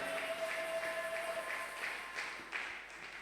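Congregation at a prayer gathering applauding, a steady wash of many hands clapping at moderate distance, continuous throughout with a faint sustained tone early on.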